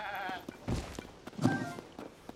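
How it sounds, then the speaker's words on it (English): A goat in the video game Zelda: Tears of the Kingdom gives two short, quavering bleats a moment apart, faint and set against a low background hum. "Why did that goat just laugh when you killed it?"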